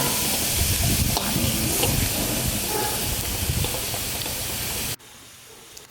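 Beef and vegetables stir-fry in a wok with a loud, roaring hiss and sizzle, broken by tossing scrapes, until it cuts off sharply and a brief spoken phrase is heard over faint residual sizzling.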